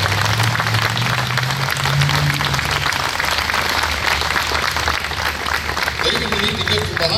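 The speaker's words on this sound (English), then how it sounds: "Let's have a big round of applause for our new historical marker." A small outdoor crowd claps steadily for a new historical marker at the Licking County Courthouse, the applause holding for several seconds before thinning out.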